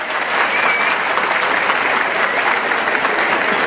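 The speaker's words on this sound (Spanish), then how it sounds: "que se escuche fuerte el aplauso." Loud, sustained audience applause fills a rodeo bull-riding tournament in Valle Encantado, a dense, steady clapping crowd holding at an even level throughout.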